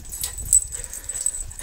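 A dog gives a few short, high whimpers and yips during an unboxing at home, fairly close and soft over a quiet room, with no talking.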